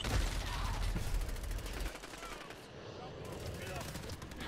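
Rapid bursts of MP5 submachine gun fire in a video game, dense and loud throughout with a brief lull midway, mixed with game noise.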